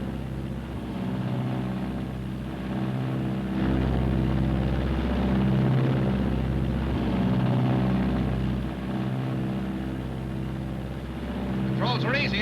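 Twin engines of a Martin B-26 bomber drone steadily in flight, a loud, continuous low-pitched propeller roar with a slight swell midway, heard from inside the aircraft.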